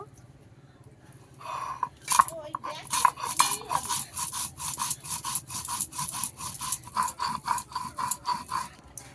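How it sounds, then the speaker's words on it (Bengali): Cumin and black peppercorns are ground together on a kitchen grinding stone, with a steady back-and-forth scraping rhythm that repeats many times, close and moderately loud. "জিরে আর গোলমরিচ আমি একসঙ্গে বেটে নেব"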